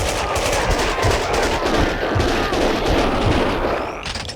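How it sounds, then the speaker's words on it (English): Continuous rapid gunfire in the video game Max Payne 2, a dense, loud barrage of automatic shots and bursts that fills the whole span before easing slightly at the end. "Someone must have heard the gunfire."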